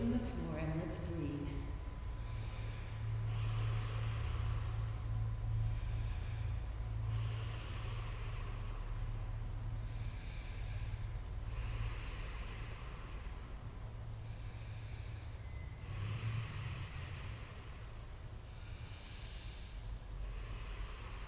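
Slow, deep breaths during a yoga class at Ixtapan de la Sal, several long hissing exhales in a steady rhythm, close and clear over a faint low hum.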